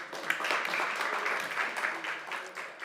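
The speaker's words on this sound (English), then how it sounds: "Please give him a warm applause." Audience applause at a Nordic hydrogen valleys conference greets a Swedish state secretary. It is a steady, dense wash of clapping that holds at an even level for about three seconds.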